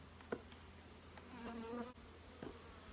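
Honey bees crawl over surplus brood frames pulled from spring hives, giving a close, continuous buzzing hum with a few louder wingbeat swells from individual bees passing near.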